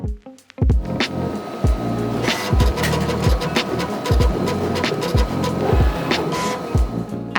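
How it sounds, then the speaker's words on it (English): A Summa F Series cutter cuts a calibration test pattern, its motor whirring and buzzing in rapid, repeated bursts as the head moves. The sound is loud and close, with no speech. "Select the slot you would like to calibrate, and the machine will cut a calibration test pattern."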